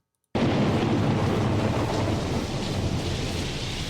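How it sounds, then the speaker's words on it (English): A sudden loud thunderclap opening the intro of Riders on the Storm, bursting from silence into a heavy rolling rumble with continuous rain hissing beneath. "Just a thunderclap?"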